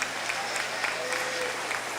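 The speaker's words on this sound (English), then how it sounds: "why don't we give her a little bit of applause for her birthday" Steady audience applause at a county 4-H swine show, a continuous even clatter of many hands clapping in a large hall, moderately distant, with a faint voice underneath.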